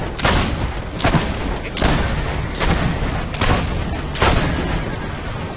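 Sniper rifle shots in Assassin's Creed Brotherhood crack out six times at a regular, fairly rapid pace, each a loud broadband bang over a constant noisy battle background.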